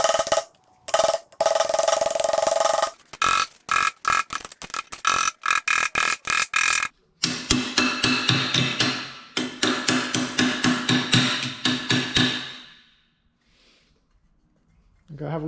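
A polished-face hammer strikes a steel car patch panel again and again as it is folded by hand over a marked radius: rapid, loud, close metallic blows in long bursts that taper off at the end.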